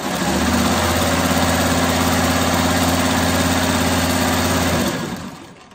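A sewing machine runs a steady, continuous stitching drone for about five seconds, loud and close with an even mechanical hum, then winds down and stops. No voices.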